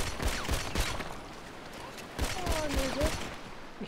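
Video game gunfire in a gangster-style police shootout: a series of sharp shots in irregular bursts over a busy, noisy game soundscape, with a siren-like tone rising briefly in the background.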